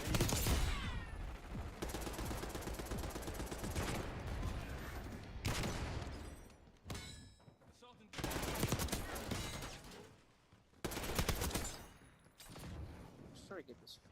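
Gunfire in a shooter video game: dense bursts of automatic fire and fusillades come in several loud stretches separated by brief lulls, with game voices speaking between the bursts.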